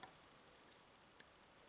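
Faint, isolated pin clicks from picking a Thirard dimple lock, a few sharp ticks spaced irregularly over near silence.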